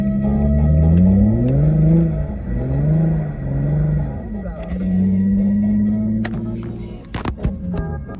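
Two cars, a Mitsubishi Evo 8 and a Nissan 350Z, pull away together at a car meet, their engines revving and rising in pitch close by, ending with a few sharp clatters.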